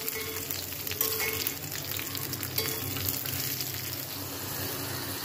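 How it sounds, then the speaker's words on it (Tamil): Bitter gourd sautéing in hot oil in a pan, a steady close sizzle and crackle with faint scraping of a spatula throughout. "இதை நல்லா ஒரு 2 நிமிஷம் எண்ணெயில் வதக்கலாம்."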